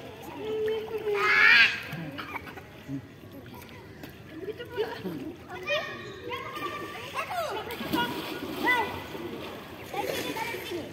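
Children swim and splash in a swimming pool in Makassar, giving scattered splashes and sloshing, near and far, beneath frequent talk and children's voices.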